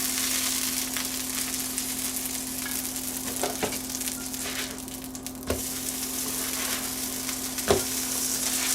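Naan cooking on an electric griddle for tikka masala, a constant soft sizzle and hum with a few sharp clicks and taps scattered through.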